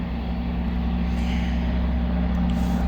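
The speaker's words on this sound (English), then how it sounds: "More noisy truck." A noisy truck passes at night on a street in Hanoi, a loud, steady low engine rumble and drone that fills the whole stretch without letting up.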